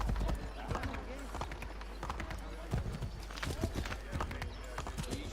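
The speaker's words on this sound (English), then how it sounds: "Hey, where's my horse?" Hooves of a horse in Assassin's Creed clopping in a quick, continuous rhythm, moderately faint beneath ongoing talk and game ambience.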